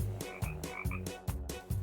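A frog croaks in a steady series of about five evenly spaced calls, each a short raspy burst, fairly faint and heard alone without talk.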